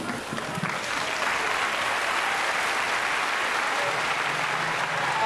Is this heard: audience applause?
yes